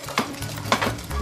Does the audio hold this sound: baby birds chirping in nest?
no